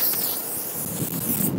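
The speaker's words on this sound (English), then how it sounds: "it doesn't even hurt to give the outside of your cowl a spray" A continuous hiss of spray is applied to the outside cowl of a Yamaha outboard motor, steady and close for its full length with no talking.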